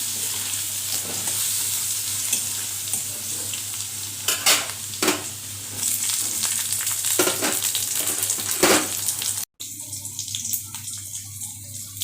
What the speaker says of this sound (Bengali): রসুনটা লাল লাল করে একটু ভাজবো